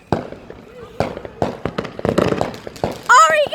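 Backyard fireworks go off in a run of sharp pops and crackles, ending with a rising whistle, while people talk and react over them.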